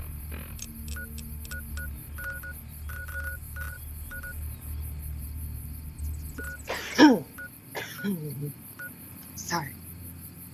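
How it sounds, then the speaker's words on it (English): A person coughs several times in a short burst, close and fairly loud, over a quiet background of soft electronic beeps and tones from a game session, followed by a few quieter coughs. "Needed to cough for like 20 minutes."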